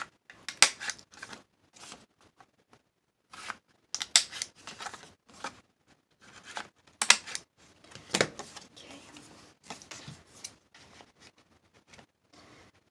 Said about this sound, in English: I'm gonna just kind of cut this a little bit.